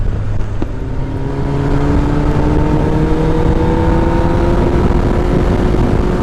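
A Kawasaki ZX-10R engine holding steady at around 100 km/h in sixth gear, a loud continuous droning whine with wind roar, close and unbroken.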